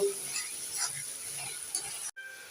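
Spice paste frying in oil for a Bengali fish curry with arr fish, a soft sizzle with scraping and stirring of a spatula in the pan, a faint clink near the end and a brief cut to silence.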